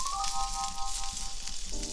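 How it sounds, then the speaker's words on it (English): A whole bag of pearl onions browns in a pan over medium-high heat, giving a steady close sizzle with faint tonal ringing on top, no talking. "So we're going to do the onions here, so we can give them some color."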